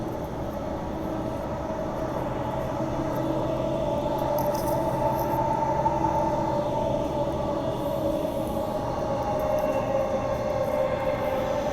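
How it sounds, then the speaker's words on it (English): Rumbling suburban passenger train on the Perth to Butler line rolling steadily along the track, a continuous loud drone of wheels and motors with a faint squeal at times, no talking. "This train runs from Perth to Butler, stopping at all stations."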